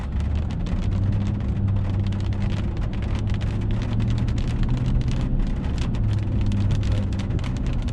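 Raindrops patter steadily on a moving pickup truck on Highway 30 in Kuwait, blended with a constant low engine and road hum; no one speaks.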